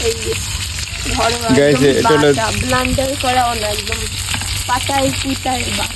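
Chicken fries in oil over a clay stove in a home kitchen, a loud, close, continuous sizzle while a voice talks or hums along in a wavering, melodic way over the frying throughout.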